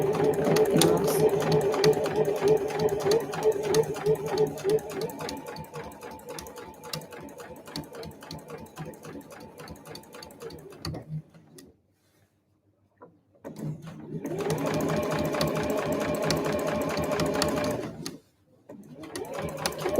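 A sewing machine stitches fabric for a convenience-store eco bag in rapid, close bursts of mechanical chatter, pausing twice before starting again, with a voice briefly heard over the early stitching.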